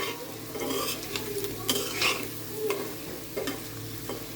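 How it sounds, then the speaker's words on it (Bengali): Food frying in a pan, a continuous sizzle with stirring scrapes and metal clinks of a utensil against the pan, close and moderately loud, no one speaking. "বাকিগুলো ভেজে নিচ্ছি।"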